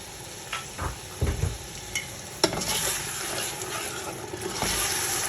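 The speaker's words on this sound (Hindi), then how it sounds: "अब मैं इसमें डालूँगी ये टमाटो की पेस्ट जो मैंने बनाई है।" Homemade ground tomato paste hits a hot pan of fried garlic and ginger for chicken biryani, giving a steady close sizzle with stirring scrapes and a few sharp clatters, no talking.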